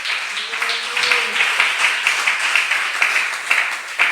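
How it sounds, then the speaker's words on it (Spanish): A church congregation claps together during a Spanish-language evangelical worship service, producing steady, rhythmic, fairly close applause that runs throughout, with faint voices mixed in. "¿Cuántos le dan palmas al Señor?"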